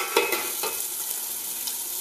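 Salmon cooking in a pan over lowered heat gives a steady, soft broadband sizzle with a few faint stirring clicks near the start, continuous and fairly quiet throughout.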